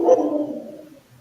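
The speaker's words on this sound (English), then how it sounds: "I'm sorry for my dog." A dog gives a single short bark that trails off quickly, close and fairly loud, indoors during a meeting.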